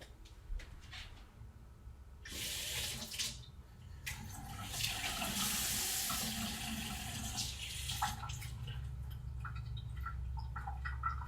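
Tap water runs in bursts for a teaspoon to add to beaten eggs for an omelet in a school cooking class, with a short gush early on and then a longer, steadier stream.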